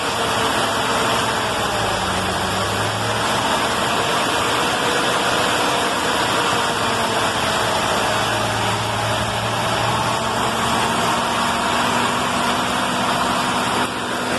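An old 1970s-era car engine runs steadily on a replacement mechanical fuel pump of the original type, a continuous close idle with a low rumble and no talk over it.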